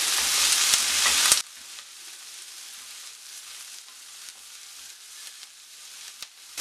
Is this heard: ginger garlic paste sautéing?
yes